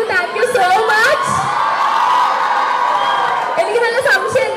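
College students cheering and whooping in a crowd, a loud sustained roar of voices with shouts rising over it throughout.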